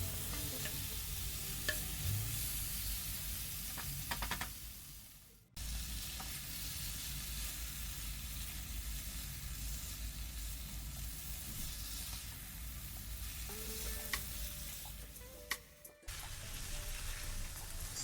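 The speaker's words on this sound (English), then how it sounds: "we need to fry the chicken well along with the spice mix or masala for at least 4 to 5" Chicken fries with masala spice mix in a pan, giving a constant loud sizzle broken by the scrape and clatter of stirring, with a brief dropout twice and no talking.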